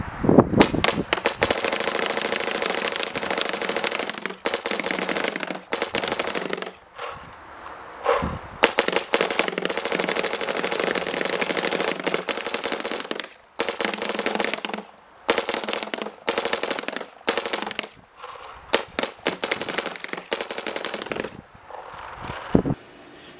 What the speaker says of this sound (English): Today we'll be shooting the MacDev Clone 5 boarded 685 with some old midnight paint.